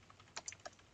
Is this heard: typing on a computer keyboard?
yes